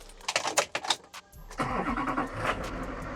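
A diesel pickup truck with 511,000 miles: a few sharp clicks and rattles, a brief crank, then the engine catches and settles into a loud, steady idle close by.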